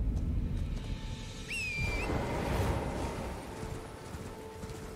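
A horse gallops in the video game Elden Ring, its rapid clip-clop hoofbeats steady and moderately close over a low ambient rumble, with a brief whistle-like tone partway through.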